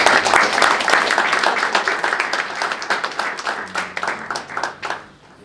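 A concert audience claps, loud and dense at first, then thinning into scattered individual claps that fade out near the end.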